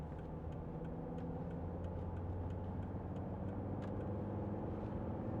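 A 2014 Volvo XC60 D4 diesel with automatic gearbox cruising on the road, heard from inside as a steady low engine and road rumble with no voices.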